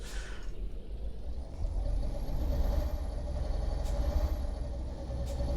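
An old heavy truck engine in the video game Euro Truck Simulator 2 drones steadily, its low rumble swelling slightly midway, with faint high whines and brief hissing bursts.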